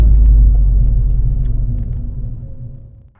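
An Abarth 595 fitted with a pop-off air filter rumbles away at low speed to park, a loud deep engine drone that steadily fades over a few seconds.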